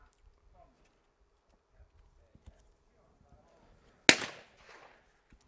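A single sharp shotgun blast rings out at a para trap shooting world cup final in Munich, a loud crack with a short echoing tail amid otherwise quiet surroundings.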